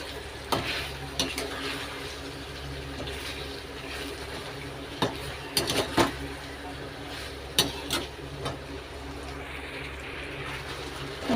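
Meat for biryani fries with spices in a pan, giving a constant close sizzle. Irregular clinks and scrapes of a stirring utensil sound against it.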